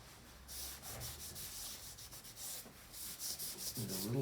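A small scrubber rasps against a bonsai pot for a Chinese elm, cleaning off algae and muck in quick, repeated close-up strokes, with no talking.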